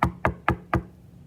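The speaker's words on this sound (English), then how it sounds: "That night, there was a knock on the door." Four evenly spaced knocks rap on a door, sharp and close, then fade into quiet.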